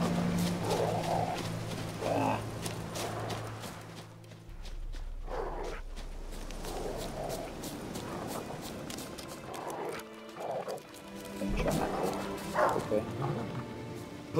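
Dog barking in The Witcher 3, a few barks mixed with horse hoof clip-clop and footsteps, under frequent speech and game music.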